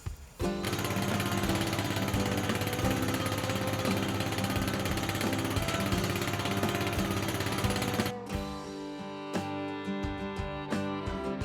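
Heavy, continuous pounding and grinding of a well drilling rig boring through bedrock, loud and steady, cutting off abruptly near the end to leave mechanical clanks and hum.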